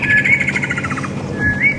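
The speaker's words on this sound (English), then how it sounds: "Beautiful bird song all around us." Birds chirp and whistle in short, bright phrases close by in African woodland at Djuma Game Reserve, where black-headed orioles and woodland kingfishers call, with a soft background hum underneath.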